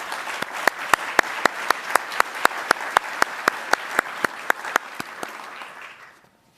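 An audience at a Navy Presidential Rank Awards ceremony claps for honorees, with steady rhythmic applause in a hall that fades out after about six seconds.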